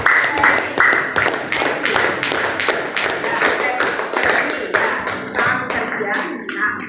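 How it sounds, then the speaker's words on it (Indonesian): Clapping in a classroom lesson, a group of hands beating in a loose, fairly even rhythm with distinct individual claps, moderately loud, with a teacher's voice heard over parts of it. "Tepuk tangan untuk"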